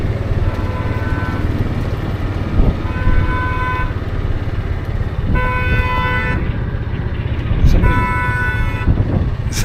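A car horn or alarm in a residential area sounds in repeated bursts of toots, loud and fairly close, over a constant rumble of wind and weather.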